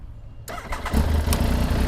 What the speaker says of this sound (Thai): เฮ้ย ดูเสียงเครื่องซะก่อน เสียงเอกลักษณ์เสียงเอกลักษณ์